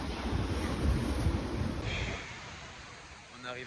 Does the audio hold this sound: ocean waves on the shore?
yes